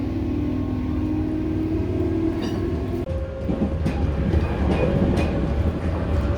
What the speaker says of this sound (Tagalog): Finally getting inside the train.